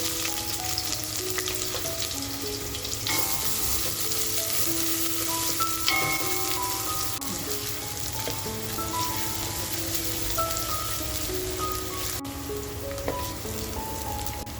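Onion sizzling in oil with black pepper, cloves, a cinnamon piece and bay leaf for dum mutton biryani, giving a loud, continuous crackling fry with a brief clink midway and no talk.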